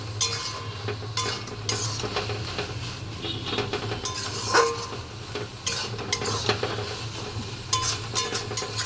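Cucumber shukto with bori cooking down in a kadai, with steady frying sizzle under repeated stirring and the scrape and clink of a utensil against the pan, close and continuous.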